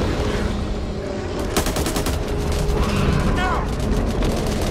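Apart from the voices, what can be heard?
gunfire in Back 4 Blood video game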